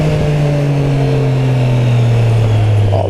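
Triumph Street Triple RS 765 motorcycle engine pulling hard under acceleration, a loud steady drone with strong harmonics that rise and climb smoothly over about three seconds, close and alone.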